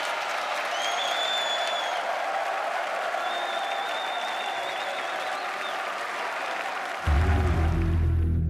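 Crowd applauding and cheering at a live Age of Empires II tournament final, the Red Bull Wololo Londinium event, with sharp whistles cutting through a steady, loud wash of clapping; a deep booming sound swells in near the end.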